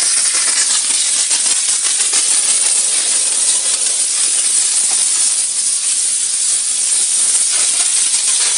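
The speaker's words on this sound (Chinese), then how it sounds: "这是持续放气12公斤的闯王第八版，要求的是随意切换蒸汽高压冷水，可以切换蒸汽压力" A Chuangwang 8th-edition steam car-cleaning machine, rated for 12 kg of continuous steam, releases a loud, unbroken high-pressure hiss. The hiss holds steady with no talk over it.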